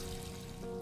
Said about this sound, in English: I twisted the faucet. Surprisingly, there was still running water.